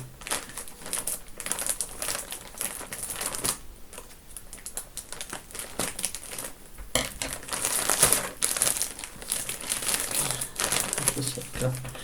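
Plastic packaging crinkles and crackles in bursts as it is cut and pulled apart, with a person talking intermittently nearby.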